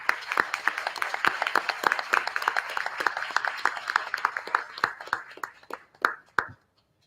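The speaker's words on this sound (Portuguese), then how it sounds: "pedir uma salva de palmas à equipe da CMEAR" An audience claps for a museum archive team at a National Museum event, a dense, steady round of applause that thins into scattered, sharper claps near the end before stopping.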